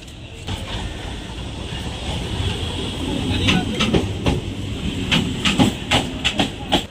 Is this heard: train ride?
yes